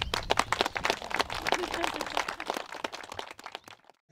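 Audience applause at an outdoor opening ceremony, dense scattered clapping from a crowd heard at moderate distance, fading out abruptly near the end.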